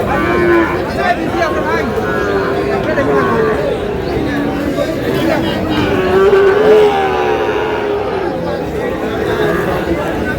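A young Sahiwal bull calf mooing at a busy cattle market in Dinajpur, drawn-out calls over constant crowd chatter and nearby voices.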